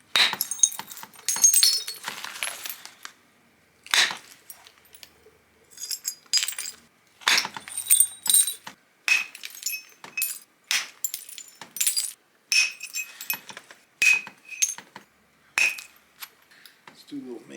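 Stone biface being flintknapped, thin flakes struck off in a run of sharp, glassy clicks and ticks, irregularly spaced with quiet gaps between, close and crisp.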